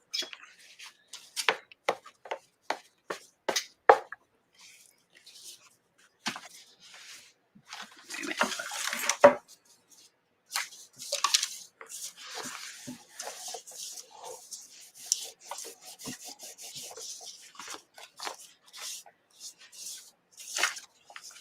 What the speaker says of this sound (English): And scrape it, and I'll wipe it off afterwards.